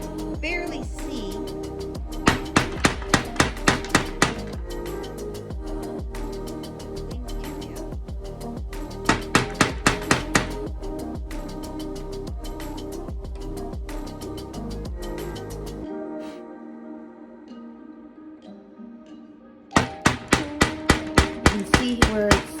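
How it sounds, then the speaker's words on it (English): A flathead screwdriver is hammered against a rusted screw to chisel into it, delivering repeated sharp, rhythmic metallic strikes in quick bursts, close and loud, with brief pauses between volleys. "I'm just going to start chiseling away at the very center"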